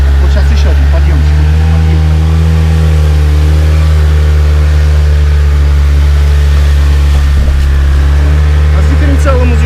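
The engine of a homemade off-road jeep with a welded rear differential labors steadily up a hill, a constant loud low drone with rising revs, while people talk over the noise.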